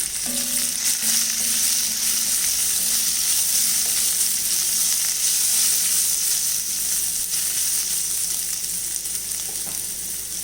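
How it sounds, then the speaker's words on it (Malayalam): Chopped ginger stir-fried in a pan for an upma of poha and vegetables, a steady close sizzle running without a break, with faint scrapes of stirring now and then and no talking. "അരിഞ്ഞു വെച്ചിരിക്കുന്ന ഇഞ്ചി, നല്ലോണം ഇളക്കി കൊടുക്കാം."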